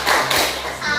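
Children in a classroom perform a short chanted clap routine during a science lesson on magnets. A dense, close burst of clapping blends with children's voices.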